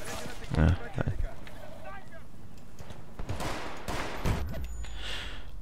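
Rocket-launcher fire and a blast from Battlefield Bad Company 2 arrive as a couple of sharp bursts amid ongoing gunfire and game noise, with someone talking over the action.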